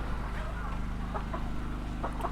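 Chickens cluck in short, scattered bursts at a poultry farm during debeaking, set against a constant low mechanical drone, with some talking mixed in.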